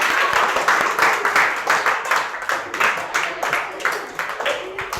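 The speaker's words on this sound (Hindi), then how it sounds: "तालियां बजाओ नीतीश सर के लिए" Audience clapping for a teacher at a school results celebration, a steady round of hand claps with talk running underneath.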